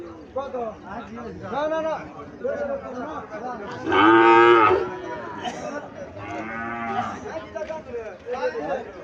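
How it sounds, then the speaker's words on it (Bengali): A Friesian bull calf about 14 months old moos loudly at a cattle market in Cumilla, one drawn-out call in the middle with a weaker one after, under continuous nearby talk. "এখানে একটা বাছুর আছে, লম্বা চূড়া বাছুর।"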